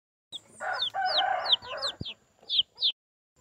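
Chickens and a rooster of the giant Indian breed cluck and squawk in short close bursts, ending with a few sharp high calls in quick succession.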